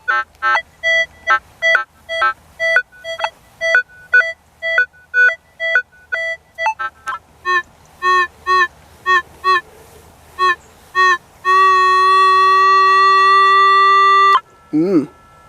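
A CTX 3030 metal detector gives a run of short, evenly spaced beeping tones, then switches to a long, steady high tone before a brief warbling sweep.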